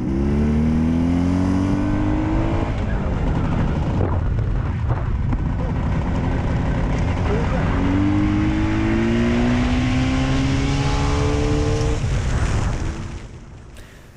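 Jawa 350/634 motorcycle engine running, rising and falling through several revs with a steady mechanical drone, close and loud, then fading near the end, with someone talking over it.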